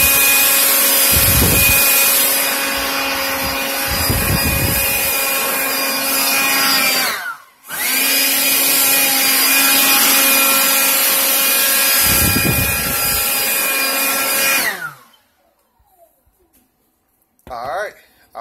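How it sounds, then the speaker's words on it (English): A leaf blower blows dust out of an MPP Solar LV5048 inverter, making a loud, steady roar that drops out briefly partway through, resumes, then cuts off near the end. "Now I take my leaf blower."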